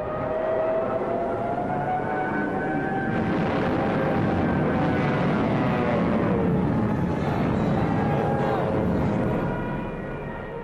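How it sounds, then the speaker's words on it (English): Stuka dive bomber passing overhead during a WWII street battle, a loud sustained engine drone with a rising, wailing siren-like tone that swells and holds for about ten seconds, with no voices over it. "with Stuka dive bombers blitzing just ahead of them"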